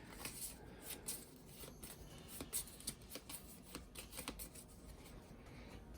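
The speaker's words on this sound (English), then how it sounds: "Now these get shuffled back in." Cards from an Arkham Horror 3rd Edition board game being shuffled back into a deck, a steady run of soft riffling and flicking strokes over a low room hum, close and fairly quiet, with no talking.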